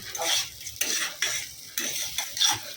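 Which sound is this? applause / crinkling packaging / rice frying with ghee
rice frying with ghee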